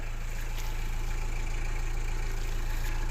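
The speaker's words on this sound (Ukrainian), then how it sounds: "Двигун як працює. Це дизель." A 2000 Peugeot Partner 1.9 diesel engine idles steadily with a constant low throbbing hum and mechanical clatter, unchanging and close by, no talking.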